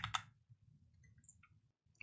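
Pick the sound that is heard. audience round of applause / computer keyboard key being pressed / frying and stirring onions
computer keyboard key being pressed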